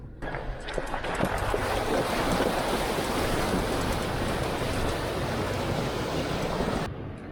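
A 4x4 fords a creek crossing on a bush track in northern New South Wales, producing a steady rushing wash of water and engine noise with wind buffeting, continuous and fairly loud throughout.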